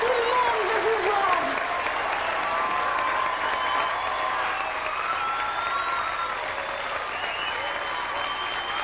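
A theatre audience applauds runners from a United States track team being introduced, sustained clapping that stays full and even throughout, with a voice briefly heard at the start.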